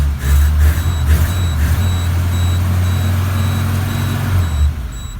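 A 1988 Suzuki Samurai, cold with no choke, idles with a loud low rumble that stays steady throughout, while an electronic beep repeats at a regular rate above it.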